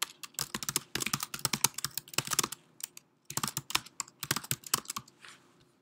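Code being typed on a computer keyboard in rapid bursts of close, crisp keystrokes, with a short pause midway before another flurry, and no voices.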